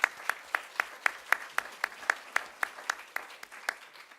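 Steady rhythmic clapping of an audience at the opening of the Second World Congress hosted by Apne Aap, a moderate, even series of sharp claps spaced about a quarter second apart and heard without speech.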